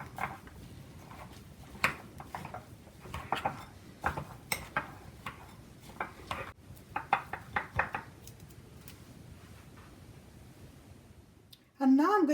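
A spoon stirs grated carrot into a bread dough mixture, giving a run of light, uneven knocks and clicks against the bowl that thin out before a louder sudden noise at the end.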